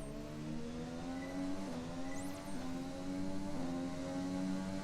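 A Honda F1 racing car engine drones at high pitch in F1 2020 at Bahrain, holding a steady whine with brief dips as it shifts through gears.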